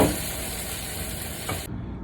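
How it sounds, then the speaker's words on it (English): Eggs sizzling and being stirred in a hot pan with charred tomatoes and scallions, a steady close hiss with faint scraping, cutting off abruptly near the end. "add your eggs. And then quickly stir it."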